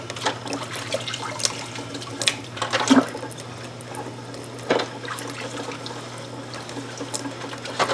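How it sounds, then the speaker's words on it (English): Metal canning jar bands wiped with a sponge under running tap water at a sink, a steady stream with intermittent splashes, clinks and scrubbing sounds close by, no speech. "I like to just kind of wipe them off with the inside with the sponge"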